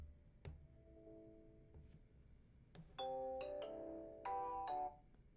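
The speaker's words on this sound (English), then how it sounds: "Excuse that phone." A phone ringing in a home office, a soft electronic melodic tone heard at low level from a short distance, first a single faint chime and then a quick run of brighter tonal notes.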